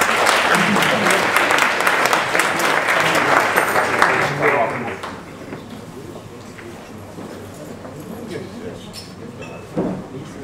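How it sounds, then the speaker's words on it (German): Loud applause from an audience at a bookstore event in Altona's Gaußstraße swells for about five seconds, then fades into scattered claps and low murmuring crowd chatter. "Ein Applaus bitte nochmal für Möbling."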